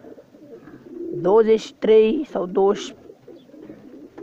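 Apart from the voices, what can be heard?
breeding pigeons cooing in loft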